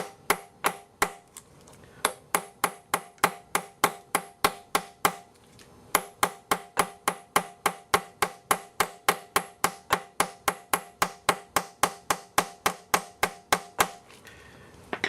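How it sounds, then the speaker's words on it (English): A torque socket is hammered onto a bolt on a 1.8T AEB/ATW engine during a timing belt job, giving a long, steady series of sharp metallic taps, about three per second, with a brief pause partway through. "Now we're going to take that torque socket and we're going to tap it in."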